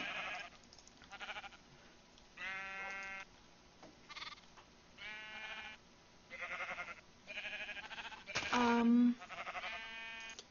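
Baby sheep in Minecraft bleating repeatedly in short harmonic bursts spread across the clip, with one louder, closer bleat near the end; game ambience sits faintly underneath.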